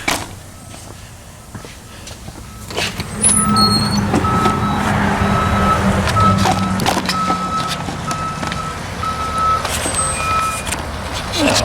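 A tow truck delivering a vehicle backs up outside a repair shop, its reversing alarm beeping in a steady evenly spaced series over diesel engine rumble and street noise, with a faint voice in the background.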